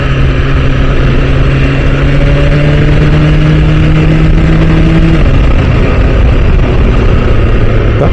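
A BMW S1000RR sportbike engine roars loud and close while riding, pitch climbing steadily through a gear before a quick-shifted change and sustained high revs under heavy wind rush.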